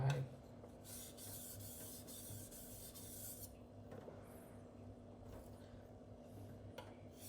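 Cleaver knife stroked across a silicon carbide whetstone in steady, quiet scraping passes, with brighter rasping bursts early on before softening into continuous rubbing.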